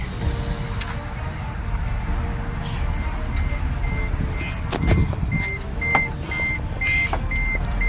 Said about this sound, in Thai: ฟังเสียงเครื่องเลย